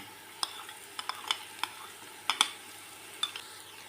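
Ginger-garlic paste frying with browned onions in a pot for matar pulao, a low steady sizzle broken by scattered sharp scrapes and clinks of a spoon stirring, close and moderately quiet.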